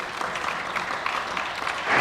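Members of the Saskatchewan legislature applauding in the chamber, a dense, even roar of clapping that holds steady and swells slightly at the end, with no speech over it.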